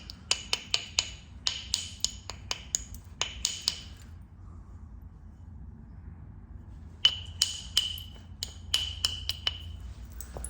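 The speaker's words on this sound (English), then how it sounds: "I'm gonna use kind of the finer tip of the bopper to do that" A bopper tip strikes flint during flintknapping, making sharp, close, ringing clicks that come in quick bursts of several taps, then a pause of a few seconds, then another run of strikes, with no talking.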